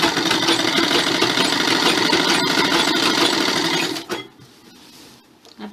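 A sewing machine runs in a fast, steady buzzing stitch along a salwar belt, close and loud, then stops abruptly, leaving a quiet hum and faint handling sounds.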